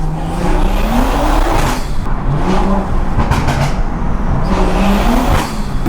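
A 600hp BMW 340i slides with its engine revving hard and loud throughout, the pitch climbing and falling in repeated sweeps as the car drifts, with tire and wind noise close by.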